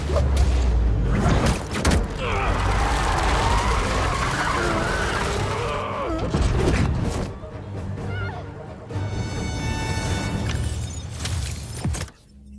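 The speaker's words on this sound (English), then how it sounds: "Didn't know New York had a drift scene!" A car drifts and skids on a New York street in Marvel's Spider-Man 2, with roaring engine and tyre screeches, thuds and crashes layered over game sound effects, loud and close throughout.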